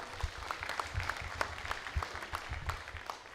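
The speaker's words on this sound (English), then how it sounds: "So round of applause for her." Audience applause for a student debater at a 2011 secondary school debate semi-final in Lae, a steady patter of clapping from a moderate crowd that holds through the whole span without talk.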